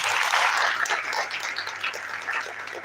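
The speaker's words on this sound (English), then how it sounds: "Can we give him a round of applause?" An audience at a plant biology contest event claps for the dean of Basic Medical Sciences, a moderate, fairly distant round of applause that fades gradually.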